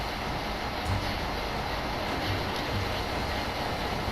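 A steam-era train in an open-world western video game rumbles along the tracks, with a steady, dense mechanical roar and clatter that continues unbroken without talk.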